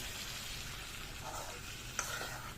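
Eggplant fries in a pan with potatoes for pabda fish curry, a quiet steady sizzle with a couple of light stirring scrapes and a small clink near the end.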